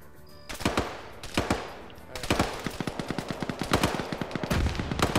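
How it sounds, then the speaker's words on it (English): UH-60 helicopter gunfire in a video game, with rapid bursts of sharp shots in quick rhythmic volleys, loud and close, broken by short pauses. "Here the UH-60 firing."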